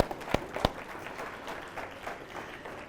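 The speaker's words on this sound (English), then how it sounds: "Round of applause." Audience applause at a student leadership summit, a moderate crowd clapping steadily after a participant shares, with a couple of sharp, close hand claps standing out early before the sound settles into an even patter.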